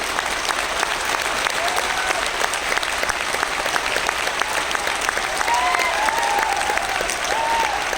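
An audience at an RCM academy seminar in Bhilwara breaks into sustained, even applause, a dense wash of many hands clapping at moderate level with no voices on top.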